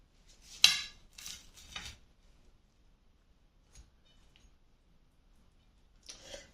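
A knife cuts into a pineapple tart, giving a few short, close scrapes and clinks against the dish, then a long quiet stretch and one last scrape.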